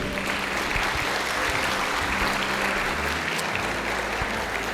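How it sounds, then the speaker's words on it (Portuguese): Dense, continuous applause from a church congregation during a worship service, even and sustained clapping with no pauses, heard fairly close and loud. "Você pode aplaudir a Jesus?"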